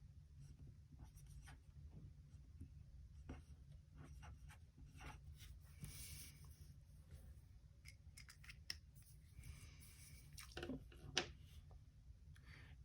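A pen writes in a paper planner with quiet scratching strokes and small taps over a low steady hum, faint and close.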